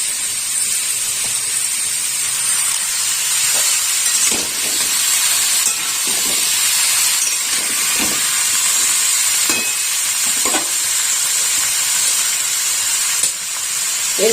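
Chopped tomatoes tipped into a hot pan for a pui shak and prawn dish, giving a steady loud hiss of sizzling steam throughout, punctuated by occasional soft stirring knocks, close up and without talk.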